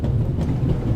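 A train running in the video game The Raven: Legacy of a Master Thief, a steady low rumble with a faint rhythmic rattle that stays even and close throughout the short stretch.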